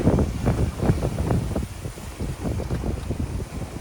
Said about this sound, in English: We've got quite strong wind now